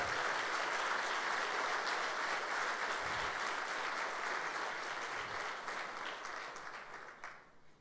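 A church congregation applauds during a Sunday worship service, a sustained, even roar of many hands clapping at moderate distance that gradually tapers off in the final seconds.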